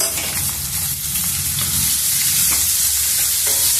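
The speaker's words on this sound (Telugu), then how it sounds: "పచ్చిమిర్చి ముక్కలు ఉల్లిపాయ ముక్కలు వేసి కొంచెం సేపు వేయించుకున్నాము" Chopped onions and green chillies fry in a hot pan for a fenugreek pulusu, giving a loud, continuous close sizzle with light stirring scrapes throughout.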